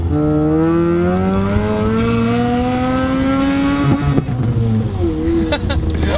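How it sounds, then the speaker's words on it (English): Mazda RX7 rotary engine revving, a steady buzzing whine climbing slowly in pitch for several seconds, then a brief dip and rise as revs change near the end, loud and close with faint wind rush. "I can hear the Rotary now more than the exhaust note. So with this, I can really rev it out without bothering a lot of people."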